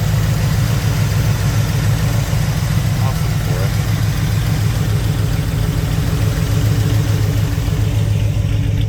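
A 1967 Chevy Nova with a 327 V8 idles steadily after a cold start with a deep, constant rumble throughout, while a person speaks briefly over it.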